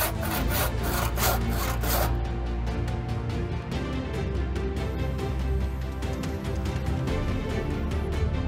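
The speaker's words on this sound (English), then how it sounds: "Let's start carving and make a piece that fits." Hand carving oak wood, a steady scraping and rasping with rhythmic strokes, brisk and close at first, then continuing as softer repeated rubbing passes.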